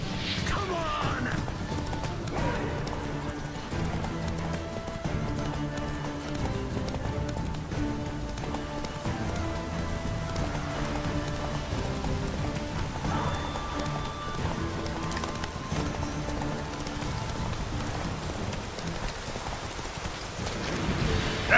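Roach, Geralt's horse in The Witcher 3: Wild Hunt, gallops with steady clip-clop hoofbeats under a dense bed of game music and ambient noise, moderately loud throughout.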